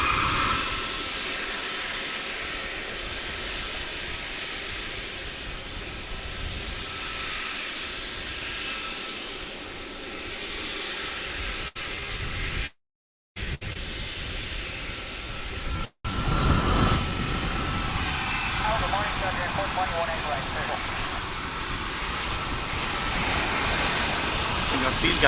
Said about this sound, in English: we've got the 747, which soon, very soon, will be making its way to Louisville